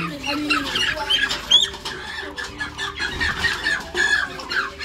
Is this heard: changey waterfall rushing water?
no